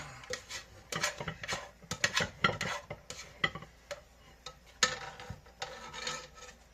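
Food pushed together in a bowl for taco arroz, a run of uneven scraping and clinking strokes of a utensil against the bowl, close and fairly loud, with no talking.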